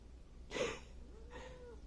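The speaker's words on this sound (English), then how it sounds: "I guess I have a cat in this shot." A cat gives two short, soft meows close by in a quiet indoor room, the first breathy and the second a thin rising-falling cry, with no talking.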